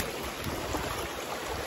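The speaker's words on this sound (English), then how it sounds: "There's a little waterfall right there." Small waterfall on a rocky, slippery hiking trail, a steady broadband rush of falling water heard close and fairly loud, continuous with no talking.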